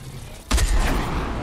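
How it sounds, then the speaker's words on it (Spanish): A gunshot in a squad battle royale shooter game, a sudden loud blast that cuts in abruptly and leaves a sustained rumbling tail. "Me pegaron buen disparo."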